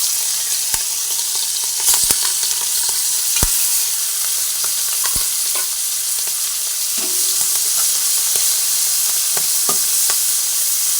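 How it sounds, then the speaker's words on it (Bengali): Salted, turmeric-coated shrimp fry in hot mustard oil in a pan, producing a continuous close hiss and crackle with occasional sharp spatters and stirring clicks throughout. "চিংড়ি মাছগুলোকে ভেজে নিচ্ছি"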